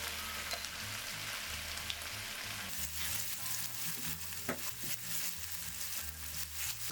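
Pork steak sears in a hot pan over medium heat, a steady broadband sizzle with crackling pops throughout and no talk.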